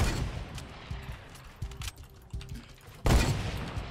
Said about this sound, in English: They are shooting at all the people up there.